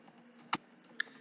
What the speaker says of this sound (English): you can just start typing